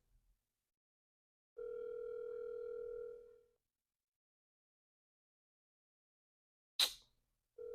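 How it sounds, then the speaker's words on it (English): A telephone ring tone sounds once for about two seconds, followed by silence and then a short burst and the start of another ring, with no answer and no talking. "Bro's not answering the phone."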